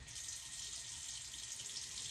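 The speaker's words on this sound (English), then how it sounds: "the water is on." A bathroom tap runs in a steady, even hiss of flowing water, faint and unbroken, with no voices.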